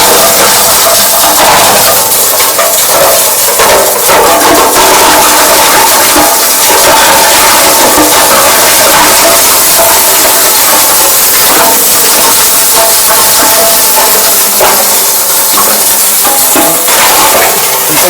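A stone crusher machine grinds hard and soft stone being fed in during a plant demonstration, a loud continuous broadband roar with clattering, hissing texture running steadily throughout without talk.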